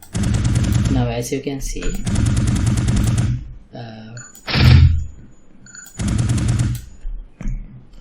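Automatic weapon fire from an enemy NPC in an Unreal Engine game test, sounding as loud sustained bursts of rapid shots that stop and restart several times, with someone talking in the pauses.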